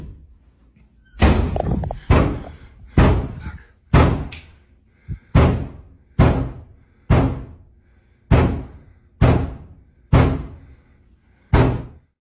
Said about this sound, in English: doors start banging loudly in the rooms